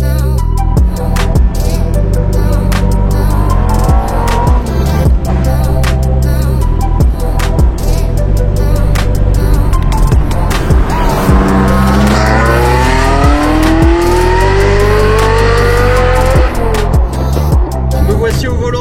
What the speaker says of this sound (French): ce qui est encore plus spécial, c'est lorsqu'on démarre la voiture et qu'on va faire un tour avec